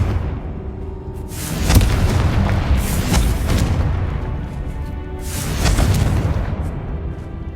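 The Confringo blasting spell in Hogwarts Legacy sets off loud, booming explosions in two heavy bursts. Each burst is followed by a rumbling tail, with no talking over them.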